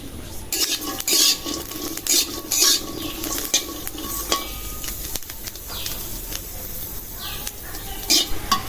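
Onion, green chili and garlic frying in a hot wok, with a spatula stirring and scraping against the metal in repeated bursts over a steady background sizzle, close by, with no talking.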